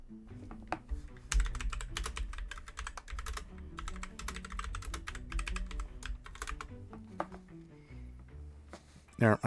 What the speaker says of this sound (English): I have a nice mechanical keyboard. That's why it's a little louder